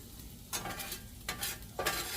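Bologna frying in a cast iron skillet gives a steady close sizzle, broken by three bursts of scraping and stirring that briefly brighten and loudness the crackle before it settles back.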